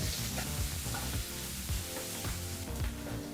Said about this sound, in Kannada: ಈರುಳ್ಳಿನೂ ಸಹ ಎರಡರಿಂದ ಮೂರು ನಿಮಿಷ ಲೋ ಫ್ಲೇಮ್ ಅಥವಾ ಮೀಡಿಯಂ ಫ್ಲೇಮ್ನಲ್ಲಿ ಫ್ರೈ ಮಾಡ್ಕೋಬೇಕಾಗತ್ತೆ